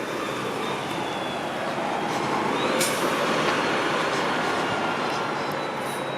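A construction truck rolls past on Wilson Avenue in Toronto's Downsview area, a loud, steady rumbling roar with broadband road noise that swells slightly mid-pass, heard up close from the sidewalk with no talking.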